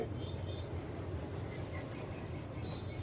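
A metre gauge train rolls through the middle of Junagadh city between houses, heard from on board as a close, steady low rumble of wheels and carriages with faint rhythmic clatter.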